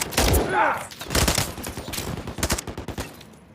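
Rapid gunfire from the video game Call of Duty MW3 on PS5, loud and dense bursts of overlapping shots and rattling automatic fire rolling on without pause.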